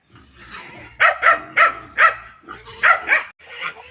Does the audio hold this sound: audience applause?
no